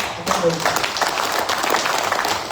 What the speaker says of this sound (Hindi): मैं चाहूंगा एक बार दिल की गहराई से जोरदार ताली होने चाहिए